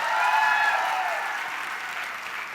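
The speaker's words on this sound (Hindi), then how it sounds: "एक बार जोरदार तालियां" An audience at a motivational event applauds in a full, sustained wash of clapping that slowly eases off, with no talking.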